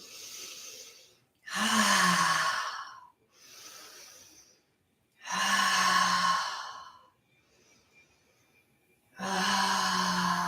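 Deep breathwork cycles of slow, heavy breaths, long drawn inhales and sighing exhales alternating with quiet pauses, close and fairly loud with no talking.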